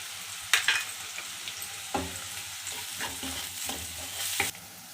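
Sliced onions and green chillies frying with turmeric for a raw prawn curry, a low steady sizzle with intermittent stirring scrapes and a couple of sharper spoon knocks close by.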